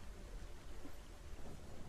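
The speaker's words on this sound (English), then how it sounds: "And this rain is actually pretty good." Steady rain falls in the video game Hellblade: Senua's Sacrifice, a faint, even wash of noise with a low rumble beneath, heard alone for a moment.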